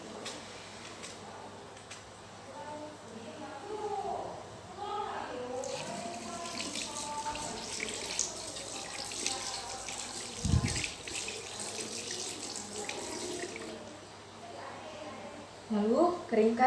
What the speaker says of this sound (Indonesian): Cuci tangan 6 langkah.